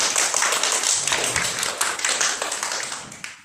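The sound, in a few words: classroom clapping for group 1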